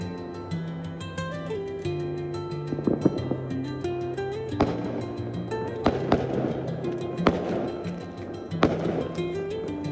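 Repeated New Year's Eve firework bursts crack and boom at irregular intervals, fairly close, over a steady musical tone in the background.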